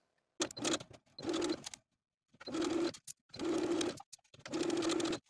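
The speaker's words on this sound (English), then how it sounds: "we're going to stitch this end of the binding all around the armhole, edge stitching close to the folded edge all the way around" A sewing machine edge-stitching a binding around the armhole of a peplum top, running in four or five short bursts separated by brief pauses, close and moderately loud, with no talk.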